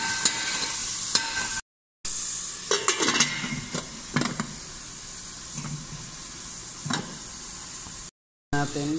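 Chicken with black pepper stirred in a pan for ginataang gulay, a steady sizzle under scattered scraping strokes of the spoon, with short dropouts to silence and a faint voice now and then.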